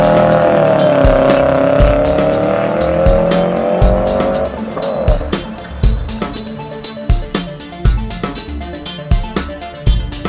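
A boxer-engined car fitted with an HKS blow-off valve revs hard with long rising engine tones and tire squeal, then settles into a rhythmic series of sharp valve whooshes and pops between throttle blips, loud and close.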